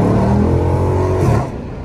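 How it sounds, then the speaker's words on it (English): A car fitted with catalytic converters hums with a loud, smooth engine drone close by, holding steady before easing off near the end, with no talk over it. "My car so quiet now that I put my cats back on"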